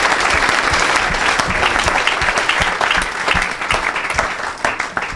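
A church congregation claps loudly and steadily at a revival service to acclaim the Lord. The applause is close and dense, with no voices over it.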